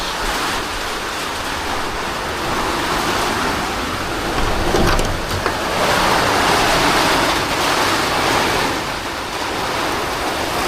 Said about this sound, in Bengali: প্রচুর বাতাস